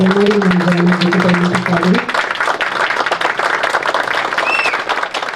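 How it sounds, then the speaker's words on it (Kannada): An audience at a film trailer launch event applauds to welcome director Duniya Suri. A voice is heard briefly, then dense, loud clapping fills the hall and continues steadily. "ದಯವಿಟ್ಟು ಚಪ್ಪಾಳೆಯೊಂದಿಗೆ ಸ್ವಾಗತಿಸಬೇಕು"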